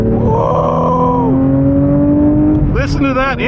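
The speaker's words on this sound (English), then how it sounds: "Listen to that engine!" A 2024 Porsche GT3 engine revs hard as the car accelerates, a loud, close, sweeping howl with a brief vocal exclamation over it.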